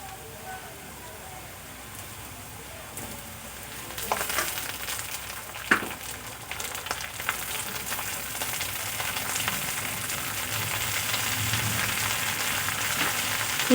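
Cauliflower and green beans frying in oil with potato and carrot for a leftover-rice vegetable dish, a steady close sizzle with occasional stirring clatters, growing slightly louder toward the end.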